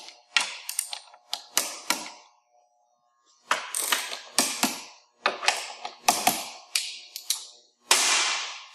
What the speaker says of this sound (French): on vient appliquer le couple de serrage sur chacun des boulons